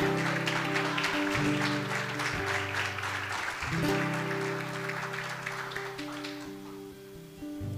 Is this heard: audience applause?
yes